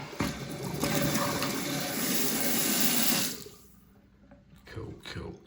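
Water runs steadily and close by, then tapers off into sparse drips and small splashes from a leak that remains after O-rings were sealed with lube.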